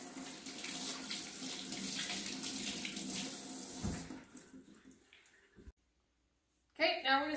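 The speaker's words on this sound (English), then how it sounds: "Okay, you can wash your hands again." Water runs steadily from a kitchen tap while someone washes their hands during cupcake baking, then stops abruptly, leaving a short silence before a voice speaks.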